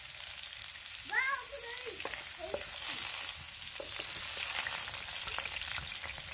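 Onion hits a hot frying pan and sizzles steadily in a soft, continuous crackle, with a few stirring scrapes and clinks near the start.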